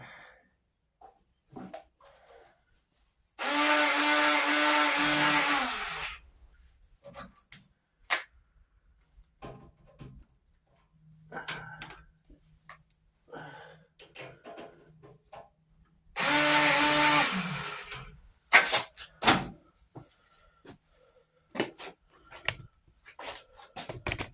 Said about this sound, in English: we're going to be using my 20-volt grease gun. I'm going to grease everything that's on this side